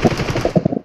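Rapid automatic gunfire in a video game shooter, a close, loud burst of shots in uneven bursts lasting under a second before cutting off.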